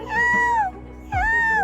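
A cat meows twice, two drawn-out, clear, close cries separated by a short pause, with some low handling noise beneath.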